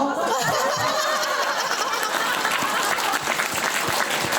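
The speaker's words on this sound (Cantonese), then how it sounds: "你哋竟然拍手！" Audience applause from a crowd at a church gathering, steady and dense across the whole stretch, close and fairly loud, with a few scattered chuckles mixed in.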